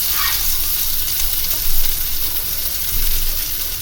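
Butter bubbles and sizzles in a pan, ready for grilled cheese bread, in a close, steady, hissing fry with small swells in loudness and no talk.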